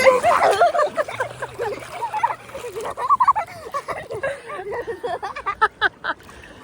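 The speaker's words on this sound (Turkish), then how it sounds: "Arkadan köpek geliyor." A dog yips and barks in short bursts amid splashing and outdoor noise, with a few scattered sounds throughout.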